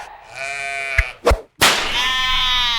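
A sheep bleats loudly and close, with a wavering cry, then a couple of sharp knocks, then another long bleat.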